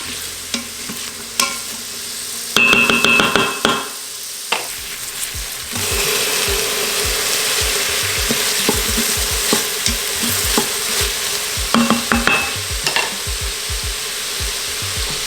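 Leeks and other vegetables sizzle steadily in a hot pot while a utensil stirs and scrapes them in irregular bursts, close and fairly loud.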